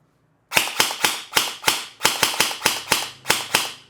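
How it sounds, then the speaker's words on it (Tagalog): Airsoft Daniel Defense rifle firing on semi-auto, about eleven sharp, loud cracking shots in an uneven but steady rhythm, each with a short decaying tail, close by with no talk. "So tara, try natin tong unit ni Bossing. Try muna natin ang semi-auto."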